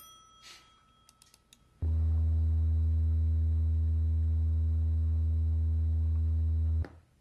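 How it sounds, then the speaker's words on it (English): A steady 80 Hz test tone standing in for wind turbine noise, a loud pure low hum that starts abruptly and holds unchanged for about five seconds before cutting off, preceded by faint clicks. "I'm going to play 3 different sounds. They're all at 80 hertz."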